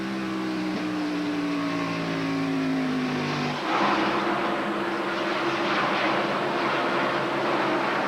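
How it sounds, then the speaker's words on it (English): NASCAR stock cars roaring around Rockingham's North Carolina Speedway during the 1993 AC Delco 500, a sustained engine drone that shifts pitch as the cars pass, heard from a distance with steady crowd and track noise. "Kenny Schrader's going to make the pass here for third."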